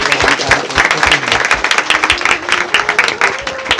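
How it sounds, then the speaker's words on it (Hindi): Congregation at a Christian testimony gathering applauding loudly and steadily, a dense crowd clapping throughout. "तो प्रभु के लिए जोरदार ताली बजाइए।"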